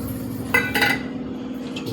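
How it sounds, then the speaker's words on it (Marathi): Whole masoor lentils stirred in a pot over a low flame, with a spoon scraping and clinking against the metal in two brief bursts, close by over a steady low hum. "थोडं स्टिअर करून घ्यायचं."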